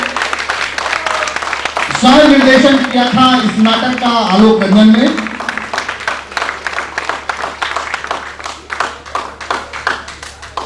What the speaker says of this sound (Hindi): जोरदार तालियां बजती रहे इन कलाकारों के लिए।